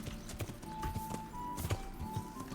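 Horse hooves clip-clop in Kingdom Come: Deliverance in a steady walking rhythm of close, distinct knocks, with a thin sustained tone running underneath.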